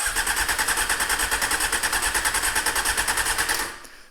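A Honda CBR600 motorcycle engine sputters to life in a rapid, steady pulsing chatter, loud and close, running for several seconds before abruptly dying away.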